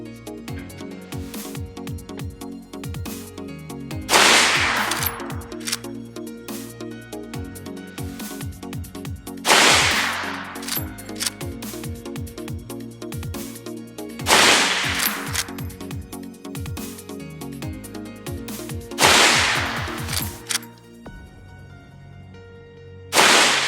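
Henry All Weather lever-action 30-30 rifle firing Federal 170 grain Nosler Partition rounds at a range: five loud, sharp shots spaced roughly five seconds apart, each with a ringing decay, over a steady background hum.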